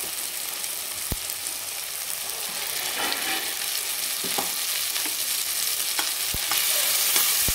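Tomato and soaked cashew paste sautés in a pan over medium heat for Kashmiri dum aloo, a dense, even sizzle with a few sharp spoon knocks scattered through, heard close without voices.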